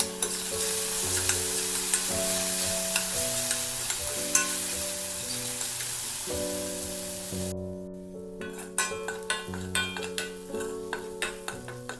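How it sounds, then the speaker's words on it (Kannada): Soaked moong dal fries in a pan for methi palya, a dense sizzle running under background music for most of the stretch before dropping away near the end, leaving the music with light clinks. "ತೊಳೆದು ನೆನೆಸಿರೋಂಥ ಹೆಸರುಬೇಳೆನ ಹಾಕಿ ಫ್ರೈ ಮಾಡಿ"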